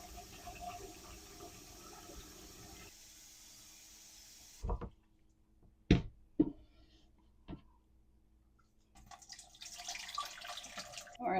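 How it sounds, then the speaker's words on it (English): Cold tap water runs over a pot of cooked al dente macaroni for a salad, a steady splashing hiss at the start and again at the end, broken by a quieter middle with a few sharp knocks. "And then we want to run some cold water through this"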